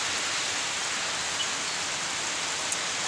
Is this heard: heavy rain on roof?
yes